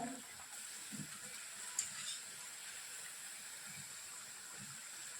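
Sweet jaggery kapnya pieces frying in hot oil, a faint steady sizzle and hiss with a few soft clinks and bumps, and no voices.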